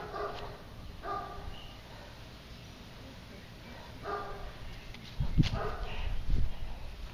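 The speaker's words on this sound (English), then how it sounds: "I hear that doggy. I hear that doggy." A dog barks a few times at a distance, short yips spaced out over a quiet room tone, with louder close handling thumps near the end.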